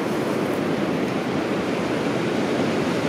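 Ocean surf breaking steadily at a surfing beach, a loud, continuous wash of rolling waves with no pauses and no voices.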